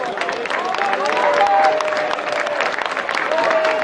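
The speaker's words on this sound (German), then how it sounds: "Ein riesen Applaus für die Kinder," A crowd at Cologne's longest-table street gathering gives the children a big round of applause, dense steady clapping with a few cheers and a voice over a loudspeaker, sustained throughout.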